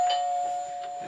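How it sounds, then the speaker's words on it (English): A single electronic chime from a toy doorbell in a miniature house rings out clearly, a sustained tone fading slightly over about a second. "The door bell."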